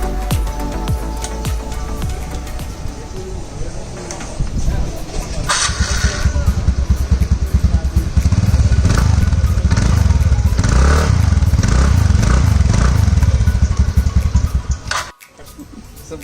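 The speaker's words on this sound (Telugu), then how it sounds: "ఇప్పుడు బండి ఇంజన్ సౌండ్ వినిపిస్తా," A TVS Ntorq BS4 scooter engine runs close by with its air filter removed, a steady loud hum that rises and roughens midway, with some clatter, then cuts out abruptly near the end.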